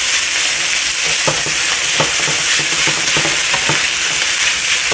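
Pork fried rice with Chinese broccoli is stir-fried in a hot pan, a loud continuous sizzle punctuated by rhythmic scraping and tossing strokes of a spatula, with no talking.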